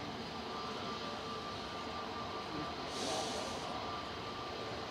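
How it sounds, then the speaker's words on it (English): Easyjet Airbus A320neo airliner departing Manchester Airport, its engines a steady distant roar that swells briefly and brightens at the peak before settling back. "This is an A320neo, a 6-year-old aircraft in the old Neo livery."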